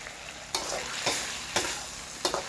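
Canned fish being stir-fried with seasonings in a wok for a Thai basil dish, a constant sizzle broken by four scraping stirs of the spatula at roughly even intervals, close and clear with no talking.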